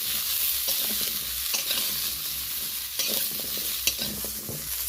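Cauliflower frying in generous oil in a pan over a low-to-medium gas flame, with salt and turmeric added, gives a steady close sizzle while it is stirred, and brief scraping knocks cut through now and then.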